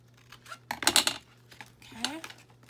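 Scissors snip a tab while a box is being made by hand, giving a few short crisp cuts and light rustles, with brief quiet talk between them.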